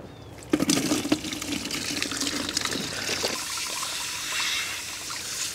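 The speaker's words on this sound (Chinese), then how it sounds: "用清水给它冲洗一遍就可以了" Tap water runs and splashes over garlic cloves as they are rinsed, a steady close trickling and pouring with a few sharper splashes at the start, no talk.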